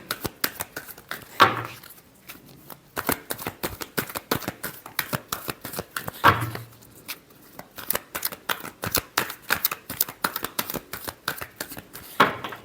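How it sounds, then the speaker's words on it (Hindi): Tarot cards are shuffled by hand in quick, rhythmic riffles of crisp flicks and slaps, steady bursts with brief pauses between rounds, close and clear with no talking. "last shuffle"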